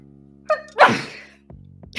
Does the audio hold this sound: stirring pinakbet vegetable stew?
no